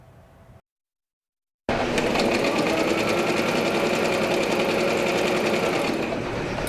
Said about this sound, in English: The hum of Ann Crawford's sewing machine underscores gentle hands hard at work